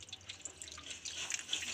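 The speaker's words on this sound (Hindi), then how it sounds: "हम थोड़े से पानी का यहाँ पर और इस्तेमाल करेंगे" Water is poured onto soaked tamarind pulp in a bowl while making chutney, a soft continuous trickling and dripping, faint and close, with no talking.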